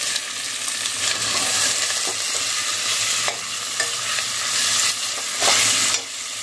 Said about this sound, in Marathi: हे परतून घ्यायचंय चांगलं